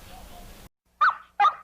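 A Nickelodeon bumper with crudely animated dogs: after a stretch of low noise, two short, loud barks ring out about half a second apart.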